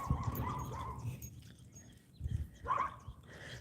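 A puppy named Miss Meg barks in short, loud bursts on a suburban walk, with a couple of yaps up front and another pair near the end, separated by a quieter stretch.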